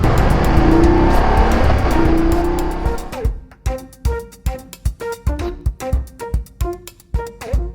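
A Porsche GT4 sports car roars past up close for about three seconds with a loud, broad engine and road rush, then fades. Rhythmic percussive music takes over for the rest.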